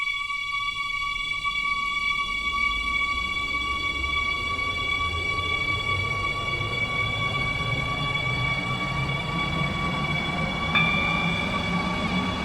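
Metro R031 train running in the SCR railway game: a steady, close rolling rumble with a constant electric motor whine above it, unbroken throughout.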